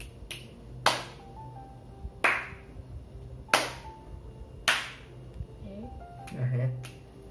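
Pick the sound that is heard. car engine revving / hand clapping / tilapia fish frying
hand clapping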